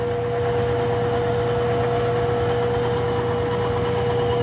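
A 7.5hp three-phase rotary converter runs steadily with a constant electrical hum and a low mechanical drone, a loud, even machine tone with no breaks.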